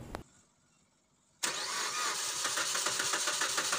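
A Suzuki Swift engine cranks and catches after a brief quiet pause, then settles into a loud, rough, rumbling idle with a steady drone close to the microphone.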